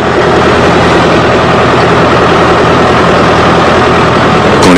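A tractor engine runs steadily and loudly from start to finish, a heavy, low rumble with no voices. The farmer uses the tractor to haul water between villages in the Palestinian territories.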